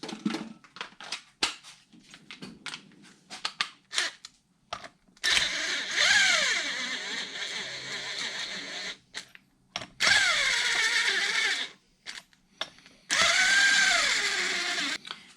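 A 3/8 driver running in bolts on front drag brakes, sounding as several close whirring bursts of varying length with rising and falling pitch, separated by short pauses and light clicks.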